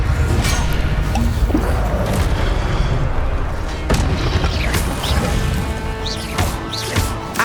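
In Hogwarts Legacy, the Incendio fire spell is cast amid loud game combat, with a dense roaring rush, whooshes and impact thuds layered continuously, punctuated by sharper hits.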